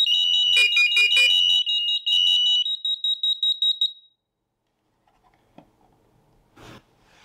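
Piercing interlinked SAFE-TECH smoke alarm beeps pulse rapidly for about four seconds, then stop abruptly, leaving quiet with a few faint clicks and knocks.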